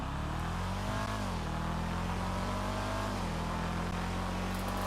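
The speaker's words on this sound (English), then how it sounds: "The sound that engine makes on the freeway." A car engine in GTA 5 Online, a tuner car on the freeway, drones and revs steadily, shifting pitch twice as it accelerates and staying loud and continuous for the whole stretch without speech.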